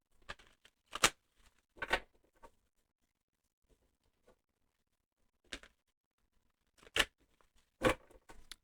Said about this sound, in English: I'm going to do a couple more shuffles.